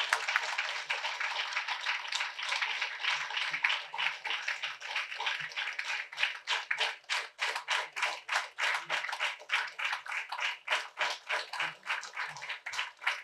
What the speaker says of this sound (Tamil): இன்னும் நல்லா கைத்தட்டு, உற்சாகமா இருக்கலாம்.